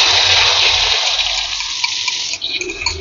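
Liquid poured into a hot pan: a steady, loud, rushing hiss and splash that fades slightly toward the end, with no talking.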